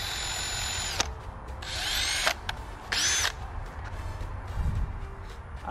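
A power drill with a steel jobber bit bores a hole, running in three short high whining bursts with pauses between, close and fairly loud, followed by faint handling sounds.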